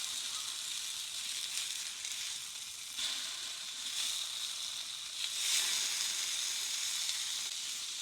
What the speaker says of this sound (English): Now we are going to brown this side of the tofu